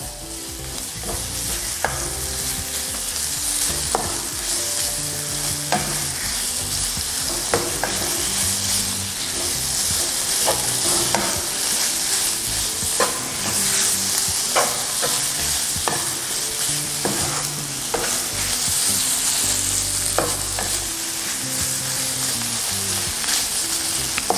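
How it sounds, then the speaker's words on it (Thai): Red curry paste being stir-fried with pork in a pan for panang, a continuous loud sizzle with repeated scraping and stirring strokes throughout, no talking. "เราก็จะผัด น้ำพริกแกงที่ได้นะครับ ผัดกับหมูนะครับให้เข้ากันนะครับ"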